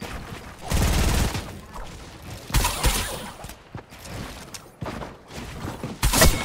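Weapon fire in Fortnite Battle Royale during a harpoon-only challenge: several loud, broadband bursts of shooting spaced unevenly across the scene, with mechanical clanks and game effects between them and no talking.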